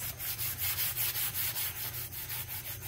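Sandpaper is rubbed by hand over a painted wooden cabinet treated with a petroleum jelly resist, making rhythmic back-and-forth scratchy strokes, close and steady, about ten passes with no talking.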